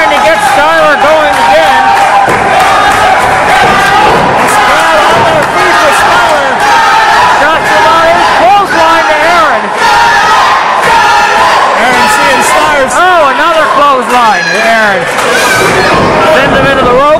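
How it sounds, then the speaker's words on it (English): A packed wrestling crowd at an FPW heavyweight championship match roars and chants loudly and continuously, rallying behind a struggling wrestler, with dense overlapping voices and occasional thuds from the ring. "This crowd trying to get Skylar going."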